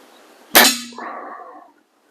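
A vintage Walther LG55 air rifle with a double set trigger fires one sharp, loud shot, a bright metallic crack that rings out and fades over about a second, with a faint ring lingering after the report.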